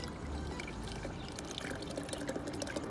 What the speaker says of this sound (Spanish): Después vamos a poner la leche evaporada, una lata.